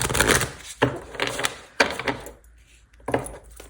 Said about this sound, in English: Well, I'll just shuffle one more time and then we'll get you a card.